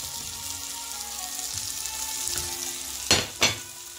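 Fried paneer tumbled into a pot of simmering red kidney beans, with a steady soft sizzle and two sharp, close clattering stirs near the end; no voices.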